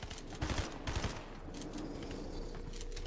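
Rapid bursts of gunfire in the video game Fortnite, a quick cluster of shots early on followed by steady dense game noise, moderately loud without talk over it.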